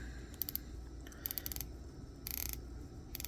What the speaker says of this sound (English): So 120 click bezel.